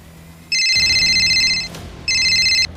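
A mobile phone rings loudly and close for a repeated incoming call, sounding two bright electronic bursts of tone separated by a short gap.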